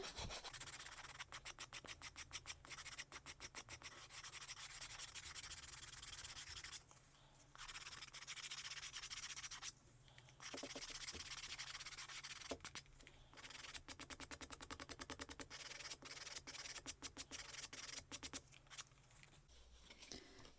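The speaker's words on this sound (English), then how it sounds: "We can improve that a little bit more just with more sanding." Quiet, steady rubbing of sandpaper by hand, soft rasping strokes continuing with a few brief pauses.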